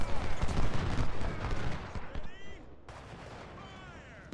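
Musket volley gunfire from a Civil War battle in the Ultimate General: Civil War video game, a dense rolling crackle of many shots that stays loud throughout, with a brief dip midway.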